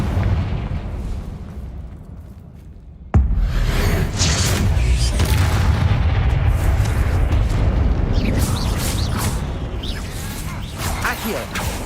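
A Confringo fire spell bursts in Hogwarts Legacy, a sudden loud boom followed by a sustained roaring, crackling rumble of flames and debris that fills the scene.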